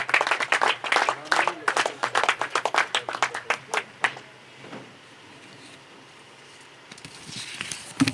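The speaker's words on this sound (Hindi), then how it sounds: "तालियां जरूर गूंजती रहें।" Audience applause at a 2021 orientation programme, brisk close clapping from a small group for about four seconds, then fading into quiet room noise with a faint voice and a few stray claps at the end.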